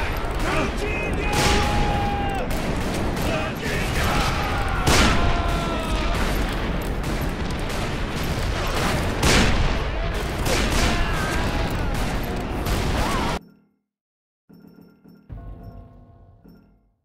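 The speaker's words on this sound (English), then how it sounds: "Ready your rifles! They're coming! I'm getting ready! Shoot outside!" Sustained gunfire rattles through a shootout in the video game Call of Juarez: Bound in Blood, with dense, loud overlapping shots and booms for about thirteen seconds, then a sudden cut to near silence with faint scattered sounds.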